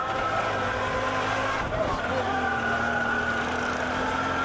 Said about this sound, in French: les rickshaws disputent la circulation aux bicyclettes et aux voitures